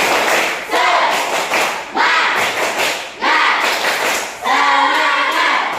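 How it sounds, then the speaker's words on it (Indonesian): A classroom of Indonesian schoolchildren doing the tepuk semangat spirit clap, loud rhythmic bursts of unison clapping in repeated phrases with short pauses between, close and lively. "tepuk semangat lagi ya, tepuk semangat"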